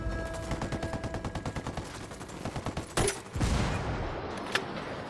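Rapid automatic gunfire in Ghost Recon Wildlands, a fast even string of shots followed by a louder close blast and a heavy rumbling burst, then a single sharp crack.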